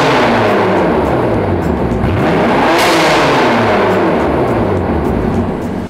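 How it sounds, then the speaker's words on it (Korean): A BMW M4 (F82) convertible with a performance silencer revs hard and loud up close, its exhaust roaring through a rising and falling rev before cutting off at the end. "이 차량 배기음 들어볼게요"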